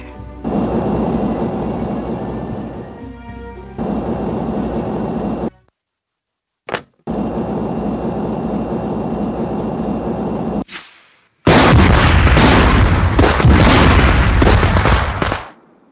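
Missiles self-destructing in the Simon the Sorcerer 5 video game: steady droning game tones with a brief sharp pop, then a loud, dense burst of crackling explosions lasting several seconds before cutting off.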